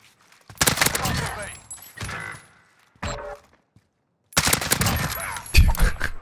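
Gunfire from the Modern Warfare 2019 video game comes in loud, rapid bursts separated by short silences, with a final sustained stretch of heavy shooting.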